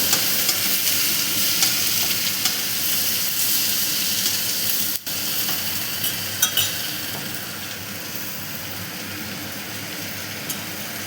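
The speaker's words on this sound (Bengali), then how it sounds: "এবারে এর মধ্যে একটু নাড়াচাড়া দিয়ে নিই।" Vegetables frying in a pan for a bottle gourd curry while being stirred, a loud continuous close sizzle with occasional spatula scrapes and clinks, no one talking.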